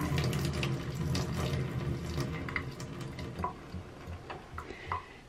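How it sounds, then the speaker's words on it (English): Tap water pours into a utility sink while dyed fabric is rinsed, a steady close wash that thins after the first seconds into softer splashes and drips. "I'm going to bring this over to my utility sink, and I'm going to just rinse this really, really thoroughly"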